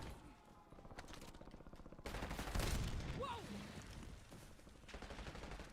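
Call of Duty Warzone gunfire rattles in dense bursts, with a sudden louder volley midway and echoing shots and game effects layered over a continuous background din.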